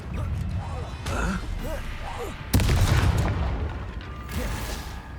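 An Incendio fire spell is cast in the video game Hogwarts Legacy, with a sudden loud whooshing burst at mid-clip over ongoing combat clatter and mechanical noise, while voices speak.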